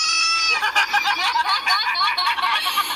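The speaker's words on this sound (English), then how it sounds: "What is that, goat?" A goat bleats with a quavering, nasal cry that wavers and repeats over a few seconds, loud and close, with little else around it.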